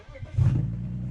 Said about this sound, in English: Not too loud of a cold start.